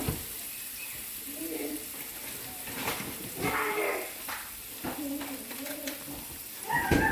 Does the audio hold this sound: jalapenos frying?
yes